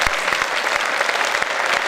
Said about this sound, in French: Ça s'applaudit une nouvelle fois, s'il vous plaît.